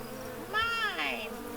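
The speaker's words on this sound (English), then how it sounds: "the drone of wings grows in the distance" The buzzing wing drone of a parasitic wasp swells and then fades over a garden backdrop, one pass of about a second set against quiet background noise.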